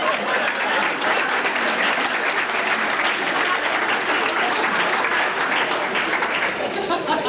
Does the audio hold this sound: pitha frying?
no